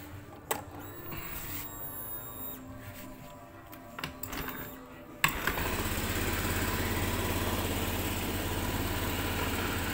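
A 2018 Honda Beat scooter is kick started, with a few faint clanks and rattles before the engine catches at once into a steady, close idle.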